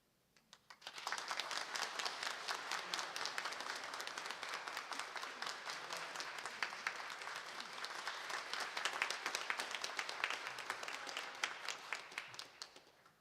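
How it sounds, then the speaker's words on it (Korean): A church congregation at a Sunday worship service in Gileum-dong breaks into warm, sustained applause during a deacon appointment, rising quickly from quiet and staying dense for over ten seconds before tapering off. "임명장 전달할 때 여러분들 격려의 박수, 축복의 박수 부탁드립니다."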